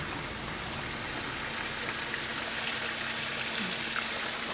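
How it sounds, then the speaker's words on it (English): Water pours down Car Wash Falls in Arkansas as a steady, broad rushing hiss, constant and moderately close, with no voices over it. "There's a waterfall."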